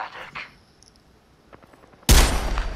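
Gunfire in a shooter video game, aimed up a hill, bursting in loud and sudden after quiet moments with a few faint clicks, then a sustained close volley to the end.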